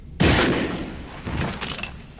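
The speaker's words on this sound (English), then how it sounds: "let's add a bunch of cartoon sound effects." A sudden loud cartoon gunshot-like burst followed by a rattling, fizzing tail of cartoon splat effects that fades and flares again, no voices.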